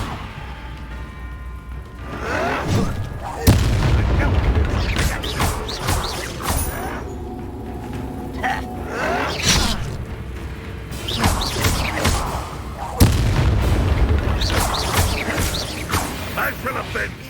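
Incendio fire spells are cast in combat in the Hogwarts Legacy video game. Repeated crashing, whooshing bursts arrive in clusters over busy battle noise, and voices speak between them.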